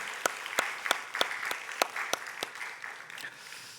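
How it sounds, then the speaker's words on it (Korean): A church congregation at a praise worship service applauds after a prayer. A few sparse, distinct claps ring out fairly quietly and unevenly over a soft background murmur. "박수로 하나님의 영광을 돌려드리겠습니다."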